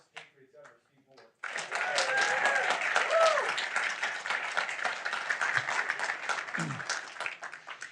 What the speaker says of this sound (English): How about a round of applause for one of the greatest patriots ever, Steve Moore.